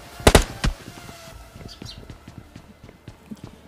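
Gunfire in a mobile battle royale game: a few loud sharp cracks up front, then a string of lighter, scattered pops and taps at moderate distance, with faint speech.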